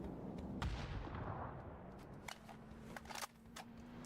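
Grenades go off in a video game during a multiplayer match, several sharp bursts and cracks scattered over a few seconds, punchy and mid-distance, with no talk over them.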